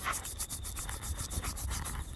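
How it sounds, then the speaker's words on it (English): Trouser fabric rubs rhythmically while someone sweeps a metal detector on a hillside in Hastings, a steady, close swishing with repeated strokes and no talking. "Pants rub"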